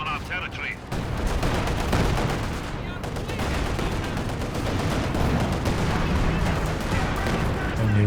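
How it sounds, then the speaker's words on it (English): Artillery barrage pounding howitzers in the real-time strategy game Company of Heroes 2, a dense continuous roar of explosions and gunfire that stays loud throughout with sharp cracks layered on top. "Some more artillery down on one of the howitzers"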